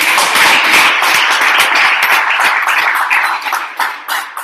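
An audience claps for Manfred on his birthday at a startup mentoring session: loud, dense, sustained applause from many hands, with no talking over it.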